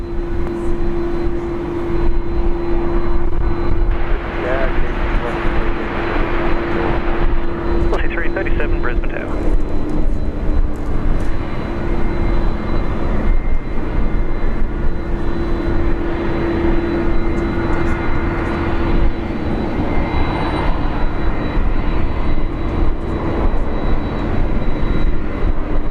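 Airliner taking off from runway 01 right at Brisbane International Airport, a loud sustained engine roar with a steady whine, heard from nearby for a long stretch, with voices speaking over it.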